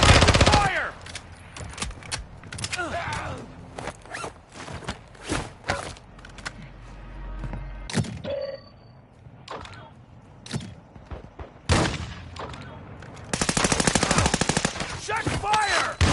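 Gunfire in Call of Duty MW2 DMZ: loud bursts of automatic fire and single shots crack in irregular volleys, separated by quieter stretches with footsteps and thuds, while a voice speaks intermittently.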